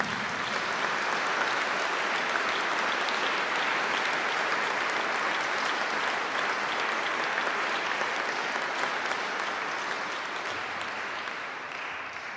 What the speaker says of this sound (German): Ein Applaus für das OK von dieser langen Nacht der Kirche.